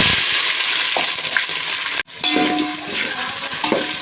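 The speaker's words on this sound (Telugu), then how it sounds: "ఆనియన్స్ అయితే వేగుతున్నాయి" Onions and green chillies frying in ghee and oil with whole spices for chicken dum biryani, a loud continuous sizzle broken by a brief cut, then stirring scrapes.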